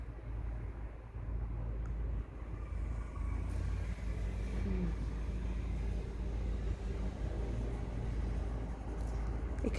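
Traffic outside passes as a continuous low rumble of cars and heavier vehicles, steady and moderately distant, with nobody speaking.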